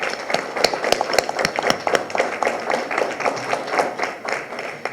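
Applause for the Veracruz team at a human-rights school closing ceremony in Mexico: a crowd claps steadily throughout, moderately loud with scattered sharp individual claps.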